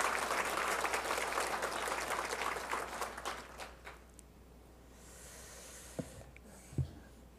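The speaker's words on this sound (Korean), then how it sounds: "박수 한번 해주시기 바랍니다." A church congregation applauds during a service, a dense steady clatter of many hands that fades out after about four seconds, leaving a quiet room with a couple of faint knocks.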